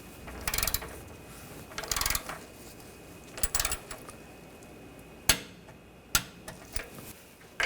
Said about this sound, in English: we can torque these bolts to 37 foot-pounds